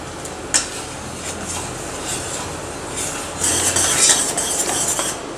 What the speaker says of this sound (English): We'll keep stirring.